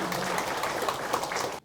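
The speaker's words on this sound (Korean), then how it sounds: "우리 박수 한번 주시죠." An audience at a township residents' meeting claps briefly. The steady, dense applause lasts under two seconds and then cuts off abruptly.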